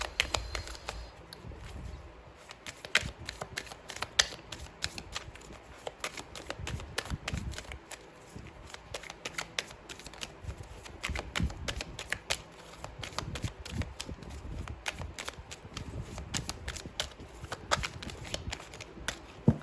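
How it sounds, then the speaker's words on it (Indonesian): Tarot cards are shuffled steadily for about twenty seconds, a dense run of soft riffling and flicking close by, with no voices. "Aku udah dapet kartunya ada 5 ya teman-teman ya"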